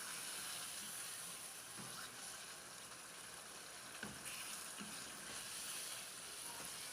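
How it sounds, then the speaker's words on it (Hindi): Chicken karahi pieces frying over a medium flame, a continuous close hissing sizzle with faint occasional spoon knocks, steady throughout. "मीडियम फ्लेम पे हम इसको तकरीबन 4 से 5 मिनट तक अच्छी तरह से भून लेंगे।"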